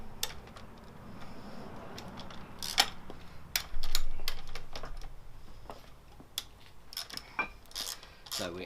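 Fork triple tree bolts on a motorcycle being loosened with a 6mm Allen key during a fork gaiter install, heard as scattered sharp metallic clicks and ticks over a quiet workshop background, with one louder rustling burst midway.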